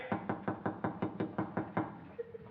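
Someone raps on a door in a 1969 black-and-white comedy scene, with eight quick, even knocks in a steady rhythm followed by two lighter taps. The knocks are close and clear, and no one speaks.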